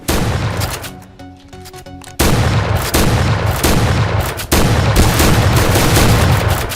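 UTS-15 shotgun fired in a first-person shooter game, producing several loud, heavy blasts in quick succession, each followed by a short ringing tail, after a quieter opening.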